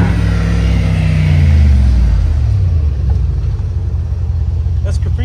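A car fitted with a Capristo exhaust, rev-limited to 4,000 RPM, lets out a deep, loud rumbling rev that swells and then drops away, with people talking nearby.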